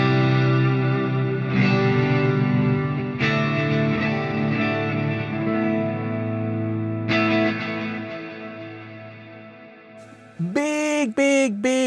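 Clean electric guitar through a Fractal AM4 amp modeler with a stereo enhancer, several chords ringing out wide and sustained, each fading slowly, followed by a few brief bright bent notes at the end; no voices.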